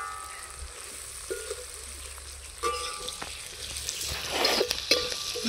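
Onions and curry leaves sautéing with salt in a pan, a steady close sizzle with occasional stirring scrapes that build into a louder crackle toward the end, and no voices.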